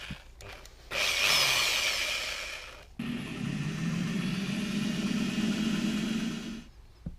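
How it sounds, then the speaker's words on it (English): A power drill fitted with a 3mm bit bores out the rivets of a toy car, opening with short bursts before a loud, high whine, then a sharp change to a steady, lower grinding drone that runs until the motor cuts off. "So let's just get straight on to drilling this apart."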